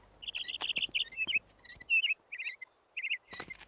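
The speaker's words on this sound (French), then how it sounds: "qu'est-ce que tu chantes bien. J'ignorais que tu étais un oiseau chanteur" Caged bluebird singing in a cartoon, a quick string of high bright chirps and warbled tweets in short bursts with brief gaps, clear and close, no talking.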